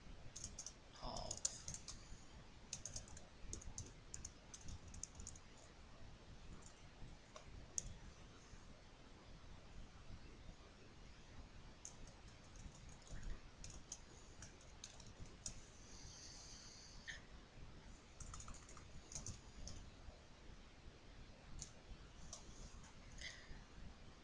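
Someone types on a computer keyboard in a quiet room, with faint, irregular key clicks in short bursts and occasional pauses.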